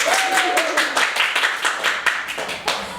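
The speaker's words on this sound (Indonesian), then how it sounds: "Tepuk tangannya dong." An audience claps at an event: a loud, dense run of handclaps with distinct individual slaps, thinning slightly toward the end, while a voice is faintly audible underneath.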